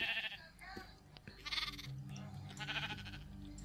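Several Minecraft sheep bleat in a quick sequence, a few overlapping calls near and distinct, with faint game sounds between them.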